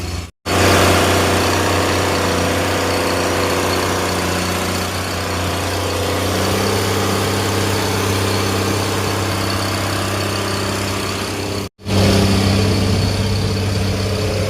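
A truck engine idles in a traffic jam, a loud, close, steady low drone that runs throughout, broken only by two brief cut-outs.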